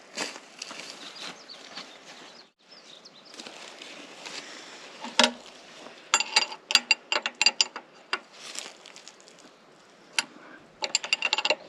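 Metallic clicks and ratcheting from a wrench tightening bolts on a Kubota KX080 excavator, a quick irregular series of sharp close taps and rattles over a steady hiss, with no talking.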